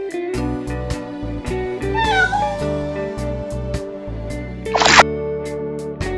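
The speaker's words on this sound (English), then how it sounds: "Cat." A cat meows once, a short rising and falling call heard over cheerful background music, with no one talking.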